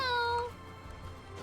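A person imitates a cat with one short, bright, rising-then-falling vocal meow at the start, followed by quieter room sound.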